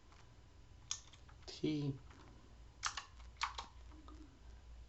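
Sparse keystrokes are heard as commands are typed on a computer keyboard, a handful of quiet clicks spread across a few seconds, with a brief voice speaking among them.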